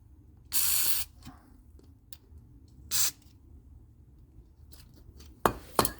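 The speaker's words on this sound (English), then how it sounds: "Spray some penetrating oil." Several short bursts of penetrating oil aerosol spray hiss close by onto a plastic nut on a Chevy Impala's suspension, separated by pauses and light clicks of handling.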